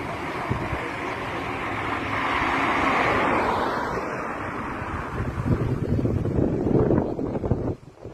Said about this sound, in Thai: ลมแรงค่ะ